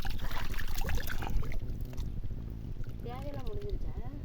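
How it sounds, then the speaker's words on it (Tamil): Water is scooped and poured again and again in a steady splashing rhythm, with a voice talking over it and outdoor bustle behind. "இப்படியே அள்ளி அள்ளி ஊற்ற வேண்டியதான்"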